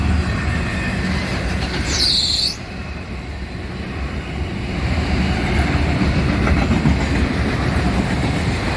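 FEC freight train 202, led by locomotive #823, rolls past heading northbound, a steady close rumble of wheels and railcars that holds loud through the whole stretch, with a brief high squeal early on.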